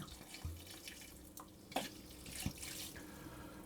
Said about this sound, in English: pour in the remainder of my wine